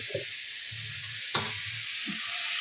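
Mixed vegetables frying in oil for a Bengali chorchori, a steady broadband sizzle with a few soft stirring knocks, close and continuous with no talking.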